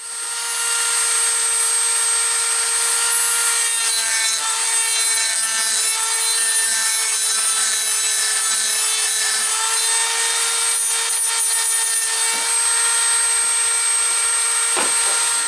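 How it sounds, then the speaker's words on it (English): Dremel with a sanding drum grinding the magazine well of a Glock frame, a loud high-pitched steady whine with gritty grinding texture that runs almost unbroken for fifteen seconds. "using a sanding drum on a Dremel"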